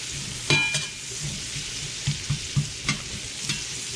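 Food frying in a Lodge cast iron camp skillet over fairly high heat, a steady low sizzle broken by a few soft scraping and stirring knocks, close by with no talking.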